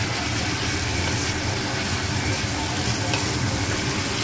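Potato, onion and green chilli frying in a pan, giving a dense, steady sizzle that stays loud and even throughout with no break.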